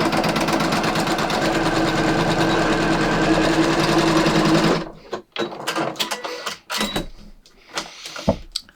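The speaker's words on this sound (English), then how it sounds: "I'm going to sew the ends of the band roll together" A sewing machine runs a triple zigzag stitch joining the ends of a non-stretch pants waistband, sounding as a loud, close, steady whir for about five seconds before giving way to fabric handling and clicks.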